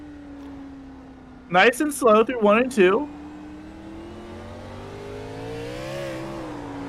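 A NORA Retro Cup race car engine drones steadily on the Montreal track, its pitch slowly rising and falling as it accelerates, while a voice briefly talks over it near the start.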